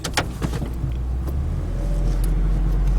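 Ford F650 dump truck engine pulling hard under full throttle on a mountain drive, a steady low diesel rumble that holds loud and close throughout, with a few brief clicks near the start.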